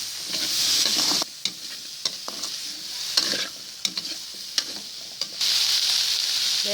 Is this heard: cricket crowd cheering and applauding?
no